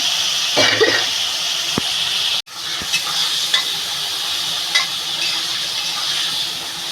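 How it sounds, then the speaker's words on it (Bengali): Prawns sizzle steadily in hot oil in a pan for a home-cooked sour beetroot dish, with occasional scraping stirs and a brief clatter partway through. "চিংড়ি মাছটা ভালো করে বন্ধুরা ভেজে নেবো"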